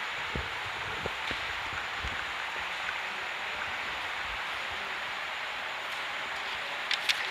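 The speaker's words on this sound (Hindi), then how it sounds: "बारिश आ रही, जा नहीं पाओगे" Steady hiss of rain falling outside, a continuous even wash of noise with occasional faint taps and clicks, at moderate level with no voices.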